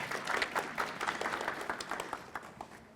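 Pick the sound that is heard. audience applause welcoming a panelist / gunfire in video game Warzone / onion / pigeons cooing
audience applause welcoming a panelist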